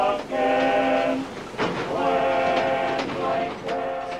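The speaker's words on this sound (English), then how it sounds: "Kruger took the train east down the line towards the Portuguese frontier" A railway train, tied to a journey east toward the Portuguese frontier during the Anglo-Boer War, sounds a sustained harmonic horn or whistle that repeats in several blasts over mechanical rail noise.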